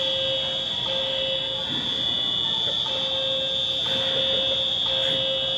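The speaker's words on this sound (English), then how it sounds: "somebody apparently has tripped off the fire alarm" A fire alarm blares continuously with a steady, piercing high tone and an intermittent lower beep, loud and unbroken throughout, with no talking over it.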